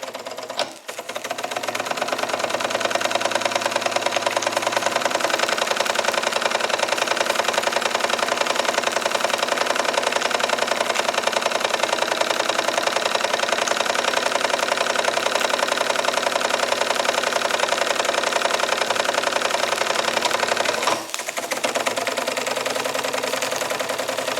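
A Jensen Model 75 toy steam engine runs steadily during break-in, a loud, continuous mechanical chugging and whirring that holds evenly for about twenty seconds with a brief dip near the end.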